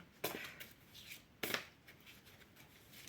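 A deck of oracle cards is shuffled by hand in two quick riffling bursts, close and crisp, with quiet gaps between them and no talking.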